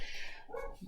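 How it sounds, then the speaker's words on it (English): A pet dog barks once, short and muffled, as if from another room in a home. "That's my dog barking."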